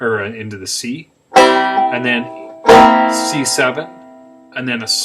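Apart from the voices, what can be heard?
No distinct noise like a dog, phone or traffic.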